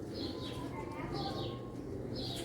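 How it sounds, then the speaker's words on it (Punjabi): A domestic pigeon coos softly in repeated short calls, faint and somewhat distant, under someone talking nearby. "ਇਹ ਬਟੇਰਾ ਘਰ ਦਾ ਕਬੂਤਰ ਹੈ ਮੇਰਾ"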